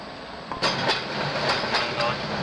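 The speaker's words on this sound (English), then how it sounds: "And the old-style electric train is running down the middle of the road too." An old-style electric tram rolls along a cobblestone street in Pilsen, Czech Republic, passing close by with a steady rumble and a series of sharp rhythmic clacks over rail joints.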